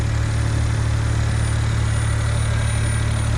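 A Suzuki kei car engine idles steadily, a close, constant low hum with faint mechanical vibration and no voices.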